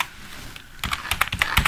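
Computer keyboard typing kicks in after a quiet start, with quick irregular keystrokes that come near and fairly loud, several in rapid bursts, and nobody speaking.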